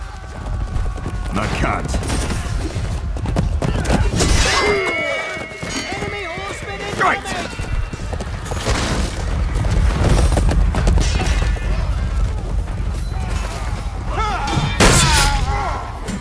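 A horse gallops in the medieval combat game Chivalry 2 during mounted team deathmatch fighting: rapid, steady hoofbeats run for the whole stretch, with occasional whinnies, thuds and battle clatter, and voices shout over it.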